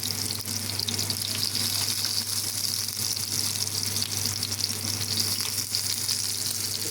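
Shrimp and vegetable tempura with onion rings deep-fry in hot oil, a steady, dense bubbling sizzle that holds evenly and up close throughout, with no voices.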